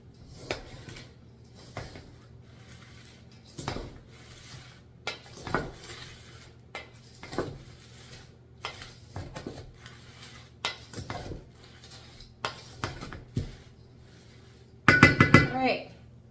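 Heavy potting soil for ferns is mixed by hand in a container, with repeated scraping, scooping and clinking strokes at an uneven pace, close up, as a person talks at times, ending in a louder burst of clattering.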